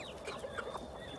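Sultan breed chickens cluck quietly in a farmyard, a few faint, short clucks over low background noise.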